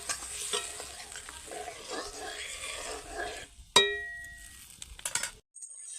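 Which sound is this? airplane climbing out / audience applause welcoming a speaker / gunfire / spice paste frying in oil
spice paste frying in oil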